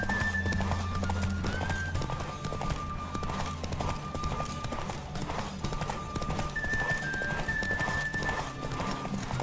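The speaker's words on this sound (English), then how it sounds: "Don't spare the horse." Steady clip-clop of horse hooves at a running pace in The Witcher 3, with an occasional whinny, over continuous game music and ambience.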